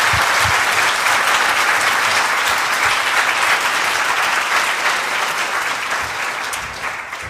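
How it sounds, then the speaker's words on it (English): An audience at a leadership event applauds volunteers with loud, sustained clapping from a large crowd that holds steady for several seconds before easing off slightly at the end. "So let's give them a hand."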